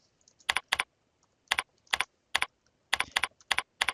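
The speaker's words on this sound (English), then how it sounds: "let's just go ahead and type in calf pain" Quick bursts of keystrokes on a computer keyboard as a short medical search phrase is typed into a diagnosis tool, clustered in small groups of crisp, close clicks with brief pauses between them.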